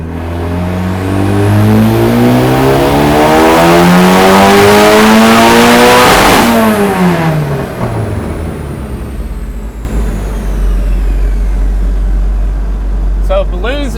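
A turbocharged K24-swapped Mazda Miata screams through a dyno pull, its engine note climbing steadily in pitch to a loud peak before dropping off into lower-pitched running and a few mechanical clicks.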